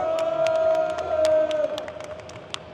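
An audience at Japan Expo applauds and cheers, a crowd roar with whoops and scattered claps, loud at first and then tapering off, with a sustained shouted tone across the start.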